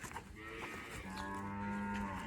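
At milking time a buffalo gives a single drawn-out, resonant moo, close by and clear against quiet farmyard background.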